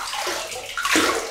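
Warm tap water runs into a basin while a face is rinsed after a shave with a Rockwell 6C razor, giving a close, steady gush that briefly shifts into a splashing slosh.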